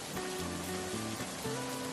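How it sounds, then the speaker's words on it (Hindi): Rain falls on a plastic sheet under a tree at a railway station, a steady dense patter with soft melodic tones running beneath it and no speech. "अरे माधव, तू यहाँ बाहर बारिश में पेड़ के नीचे क्या कर रहा है?"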